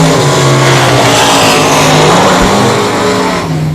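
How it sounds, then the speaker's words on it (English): Limited modified race cars run practice hot laps at I-37 Speedway, a dirt oval, with loud, continuous engine roar filling the whole stretch and no speech. "We got our hot laps going on right now. Just a little practice for these limited modifieds."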